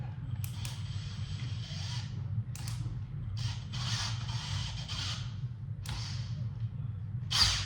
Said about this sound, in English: run it back and forth till I feel that my rings are centered